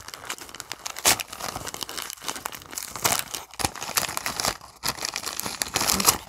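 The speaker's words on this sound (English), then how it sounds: "Okay, crinkling." Cardboard box packaging crinkles and tears in close, irregular bursts as it is opened, with no voices.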